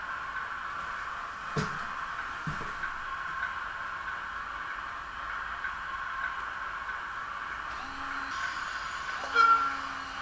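Model railway shunter moving freight wagons on a layout: a faint, steady motor hum runs throughout, with a couple of soft clicks and a brief horn-like tone near the end.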